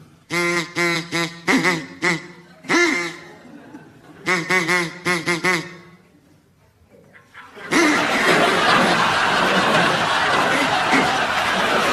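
A person on a comedy panel game imitating a duck, giving a run of nasal, rhythmic vocal quacks in bursts, then a pause before loud audience laughter and applause takes over.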